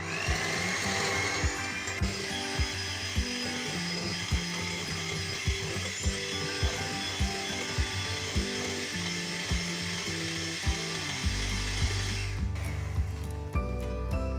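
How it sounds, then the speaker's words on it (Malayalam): An electric hand beater whips eggs and powdered sugar for a bakery-style dry cake rusk batter, running as a steady whirring hum with rhythmic clicks and knocks against the bowl throughout, ending in a brief louder change near the end. "ഇനി നമുക്കിത് കുറേശ്ശെ ചേർത്ത് കൊടുത്ത് ബീറ്റ് ചെയ്തെടുക്കാം"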